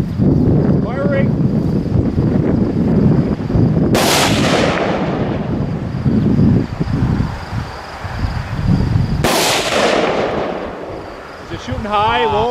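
Machine guns fired at an outdoor shoot in Red Wing, Minnesota: two loud, sharp booming reports crack out over constant wind rumble, with people talking in between.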